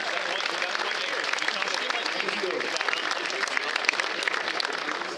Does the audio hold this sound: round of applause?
yes